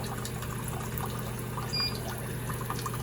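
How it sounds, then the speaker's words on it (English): A heated bidet toilet seat's extended nozzle sprays water in its cleaning function, giving a steady, continuous trickling hiss over a low hum, close and moderately loud with no talking. "There's the nozzle that comes out, and this is the cleaning function."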